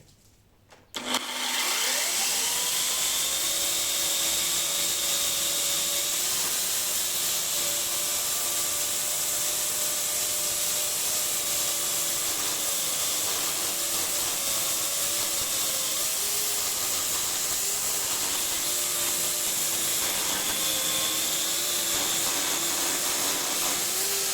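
A GTM electric chainsaw starts up and cuts through wood in one long, continuous pass, its loud, steady motor whine wavering slightly under load for over twenty seconds.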